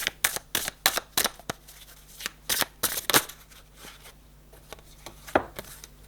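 Tarot cards are shuffled and drawn in a quiet room, a run of crisp riffling flicks and soft card slaps in uneven bursts, close and clear with no voices.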